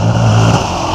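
KX 500 dirt bike ridden by a 16-year-old through a rainforest puddle, its engine roaring loud and close with a steady high rev that eases off partway through.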